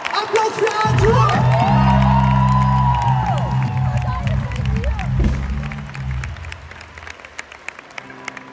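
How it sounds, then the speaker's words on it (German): An arena concert crowd in Berlin bursts into loud applause, cheering and whoops at a show, swelling quickly and then slowly fading to scattered claps, with voices shouting and speech mixed in. "Applaus für Arthur!"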